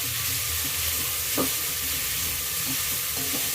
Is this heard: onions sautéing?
yes